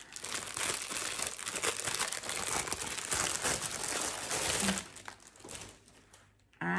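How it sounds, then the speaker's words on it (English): Crinkly plastic wrapping being pulled off a cake of orange-and-white yarn fills the first few seconds with steady crackling, then turns sparser with short rustles before a final crinkle. "First, I need to unwrap it."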